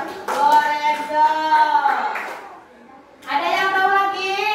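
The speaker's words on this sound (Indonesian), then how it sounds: "Oke, tepuk tangan buat Lorenzo." Children in a classroom clap for a classmate, with short bursts of clapping mixed with a teacher's clear nearby speech and children's voices.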